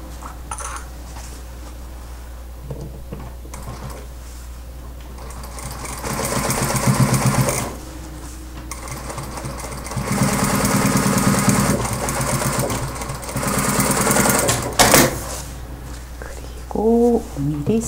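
A sewing machine stitches a 5 mm topstitch on a children's trench coat, its motor whirring in several steady bursts amid a constant low hum, while someone speaks in Korean between and over the runs.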